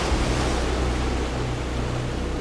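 Heavy surf and a rough sea heave and crash without pause, with gusting wind blowing over a lifeboat at sea, a dense, loud roar across the whole clip in the style of a radio drama effect.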